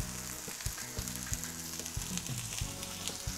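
Yellow bell pepper frying in a drizzle of olive oil in a hot, smoking pan, a steady close sizzle with scattered crackles and a few clinks of utensils throughout.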